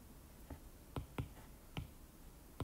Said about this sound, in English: You can hear me clicking on the calculator.